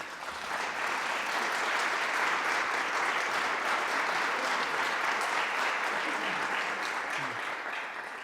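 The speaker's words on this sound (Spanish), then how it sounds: "¿Podemos aplaudir?" At a lecture on an Independence-era musician, the audience gives the maestro a long, even round of applause, thick and sustained for several seconds and fading slightly at the end, with no one speaking over it.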